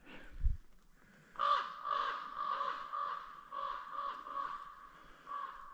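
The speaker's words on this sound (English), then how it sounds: "when the crows start making a lot of noise, pay attention to them" Several crows caw repeatedly in a ragged series of harsh calls, moderately close, with quiet surroundings between them.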